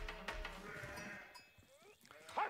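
A sheep bleats in a strategy video game as a faint, quavering call among layered game effects, then a brief brighter chirp near the end, all at low volume.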